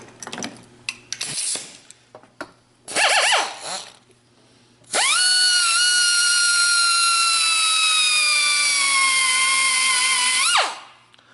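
An air-powered tool trims weld on a cast iron crack repair: a few short bursts of grinding, then a long, loud, high-pitched whine held steady for about six seconds before cutting off.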